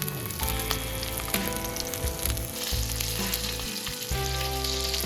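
Ribeye steak sizzles steadily in a hot pan with butter added, a dense continuous frying hiss with brief shifts and dips as the pan is handled, close and loud with no talking.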